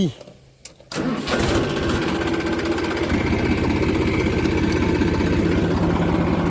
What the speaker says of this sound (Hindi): कैफे मॉडल की चाबी ऊपर बैठ के ही हमेशा स्टार्ट करना चाहिए